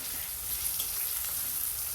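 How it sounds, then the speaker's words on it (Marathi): Tomato sautéing with onion and cumin in a pan for dill and moong dal greens, a steady bright hiss of frying, close and even, no speech. "टोमॅटो पण छान असं परतून घ्यायचं."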